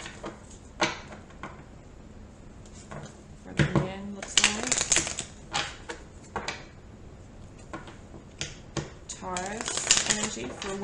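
Tarot cards being shuffled by hand in a quiet room, with bursts of riffling and soft card slaps recurring throughout, a person talking over the shuffling at times.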